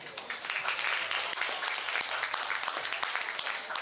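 An audience at a dance championship awards ceremony claps steadily for several seconds, a dense patter of many hands at moderate distance, with no break.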